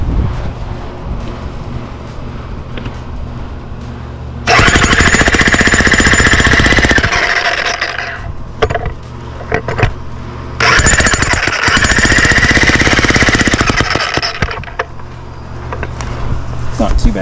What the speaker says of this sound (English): A little overkill again with the big jackhammer for a concrete fence post.